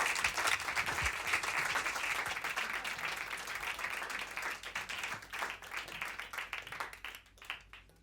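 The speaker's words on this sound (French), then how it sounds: "Je voudrais qu'on l'applaudisse très, très fort." A concert audience applauds at a live music performance, a dense, steady wash of clapping that carries on at moderate distance before thinning out toward the end.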